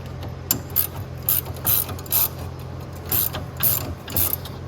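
Bursts of ratchet clicking from a wrench snugging a lift kit bolt on a Toyota Yaris, several short loud runs separated by brief pauses over a low steady hum.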